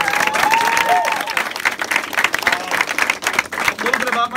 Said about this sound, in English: So seriously, round of applause to you guys.